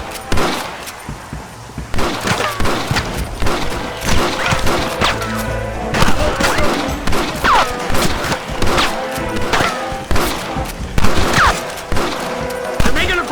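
Gunfire in the video game Red Dead Redemption: loud, irregular volleys of shots with sharp cracks, crashes and thuds through a chaotic shootout, with shouting voices in the mix.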